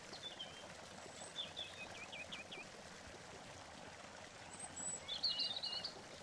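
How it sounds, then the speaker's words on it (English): Faint birds chirp now and then over a soft, steady trickle of falling water in an enclosed garden, with one brighter burst of song near the end. "You hear the sound of birds, the music of falling water."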